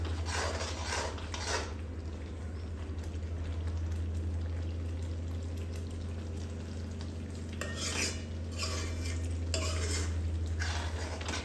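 A spoon stirs chopped coriander into okra curry in a pan, with steady scraping and clinking of utensil against metal over a faint sizzle and a constant low hum, continuing throughout.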